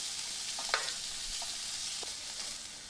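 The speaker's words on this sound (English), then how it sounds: "so I'm putting all the onions, and then I'm going to stir" Onions fry in melted butter with a soft, steady sizzle, while a few light scrapes and taps from a utensil stirring them cut through now and then. The sound is fairly faint and close, with no voices.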